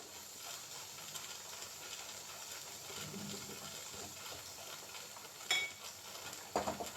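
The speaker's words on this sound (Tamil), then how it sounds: "அது கொஞ்சம் எண்ணெயில் வதங்கட்டும்" Ginger and spices sauté in hot oil for a ginger theeyal, giving a steady soft sizzle and hiss with light stirring, and two brief sharper clicks near the end.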